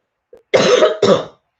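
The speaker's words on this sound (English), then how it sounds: "My God, I cannot stop coughing." A woman coughs on a livestream, with a short throat sound followed by two thick, wet coughs close to the mic.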